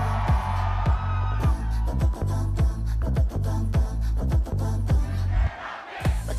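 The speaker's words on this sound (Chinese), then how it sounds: "熟悉的欢呼声再次充满了舞台" Fans cheer and shout in a studio crowd at the K-pop show Music Bank, loud continuous crowd noise over a pounding bass-heavy beat with rhythmic thumps throughout.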